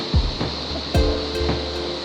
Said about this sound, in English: let's go touch that waterfall